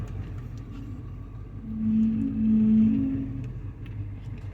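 A 1985 Chevy C10 Silverado pickup's old engine idles with a steady low rumble, swelling briefly in the middle before settling back, close by with no talk.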